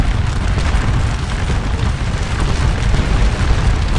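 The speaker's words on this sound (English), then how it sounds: "I'm going to have them volley fire." Massed infantry musket volley fire in the Napoleonic-era game Scourge of War: Waterloo forms a dense, continuous rumbling roar of many overlapping shots, loud and unbroken throughout.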